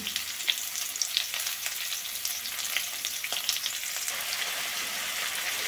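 Potato, carrot and cauliflower pieces fry in oil in a pan, making a quiet, steady hiss with small crackles and occasional light stirring taps. No one speaks.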